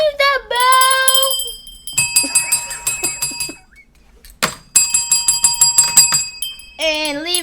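Bright metallic bell chimes ring out in quick repeated bursts, with clear sustained overtones, brief gaps between groups and a short pause midway, loud and close throughout.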